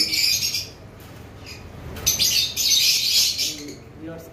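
Orange-head opaline lovebirds, a breeding pair for sale, chirp in high, busy bursts that are loud and close, with short pauses between clusters of tweets.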